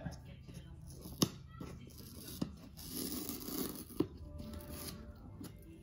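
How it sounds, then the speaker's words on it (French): Crackling, ripping sounds of sticky tape being peeled off an Advent calendar compartment, with a few sharp snaps and rustling, quiet and close. "je vais retirer le scotch"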